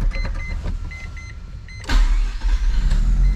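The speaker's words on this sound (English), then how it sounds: "I think this is the first time I'm ever driving an FD before, and I'm just driving it into a trailer." An FD sports car is driven into a trailer: a low idling engine hum comes first, then a sudden louder thump and mechanical whir as the car rolls up and the engine note rises, heard close.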